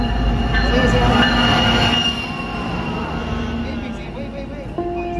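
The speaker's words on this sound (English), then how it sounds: "The train's coming." White Pass & Yukon Route train passing in Skagway, Alaska, a loud rumble of railcars with squealing wheels and metallic screeches, fading slightly as it rolls by while people talk nearby.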